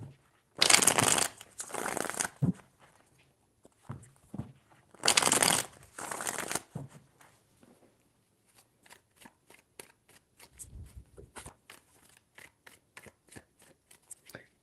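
A tarot deck shuffled by hand in two vigorous riffling bursts, followed by a run of light, quick taps and clicks as the cards are squared and handled.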